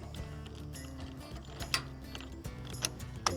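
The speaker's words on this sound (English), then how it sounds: "really ratchet it down" Socket wrench ratcheting a bolt down on a stainless steel boat transom strap, a steady run of close mechanical clicks with a few sharper metallic ticks.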